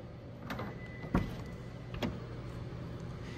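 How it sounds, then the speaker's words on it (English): A 2024 Lexus LC500 Convertible unlocks by keyless entry with the fob nearby: two short mechanical clunks about a second apart over a steady hum, with no talk. "With our key fob on us, we can go ahead and unlock the vehicle."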